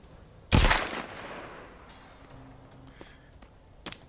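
One loud, close gunshot echoes from a zombie-survival game, its blast fading over about a second, followed by faint clatter and a smaller sharp crack near the end.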